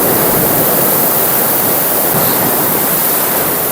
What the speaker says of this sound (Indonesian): Ini ombak kedua.